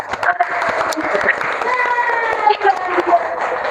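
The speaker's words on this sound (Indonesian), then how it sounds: "Tepuk tangan" Students in an Arabic-language classroom clap for a classmate, a brisk burst of hand claps from a small group, fairly close, with voices chattering over it throughout.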